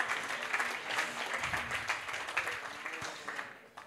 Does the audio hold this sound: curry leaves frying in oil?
no